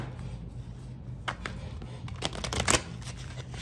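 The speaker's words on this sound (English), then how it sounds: "I'll shuffle these cards." A deck of tarot cards is shuffled by hand, giving a soft run of riffling and flicking close up that builds to a denser burst near the end, with no talking.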